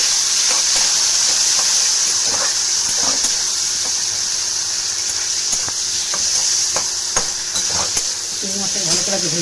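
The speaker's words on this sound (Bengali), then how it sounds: "চিংড়ি মাছটাকে ভালো করে ভেজে নিই।" Prawns frying in hot oil in a wok sizzle in a loud continuous hiss, with occasional scraping clicks of stirring close by.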